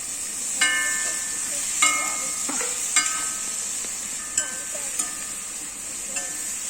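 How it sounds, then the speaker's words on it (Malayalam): Onions and tomato frying in a pan, a constant high sizzle broken by periodic metallic clinks as a spoon stirs and scrapes the pan. "ഈ തക്കാളി ഇട്ട് നല്ലോണം ഇളക്കി കൊടുക്കാം."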